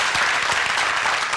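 A dense wash of audience applause, many hands clapping steadily and loudly throughout a short burst with no break.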